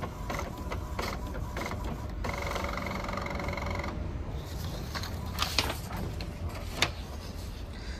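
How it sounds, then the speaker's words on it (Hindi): Courier shipping label slip printer feeding out a label: a faint mechanical whir and rattling feed with a steady motor hum, clicking transients near the end, no talking. "फिर कुछ इस तरीके से हमारा जो है प्रिंट आउट होके ये स्लिप लेबल जिसको बोलते हैं वो आ गया है।"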